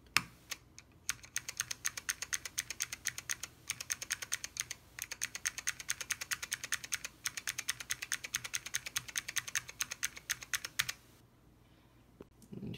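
Rapid, steady typing on an IBM 5140 keyboard with Alps switches, dense clattering keystrokes close up for about eleven seconds, a couple of brief pauses, then falling quiet.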